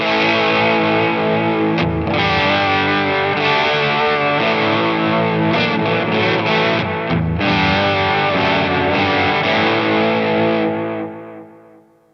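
Electric guitar through a wet/dry rig with a wavering vibrato effect, distorted and sustained, playing chords continuously before fading out at the end.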